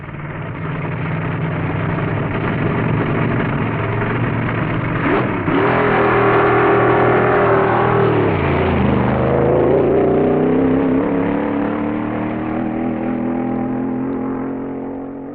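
Drag racing cars at a 1960 dragstrip starting line idle and rev loudly, one engine sweeping down in pitch as it moves, with a muffled, old-recording quality throughout.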